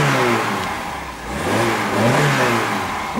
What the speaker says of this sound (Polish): Nie żałuj, daj gaz.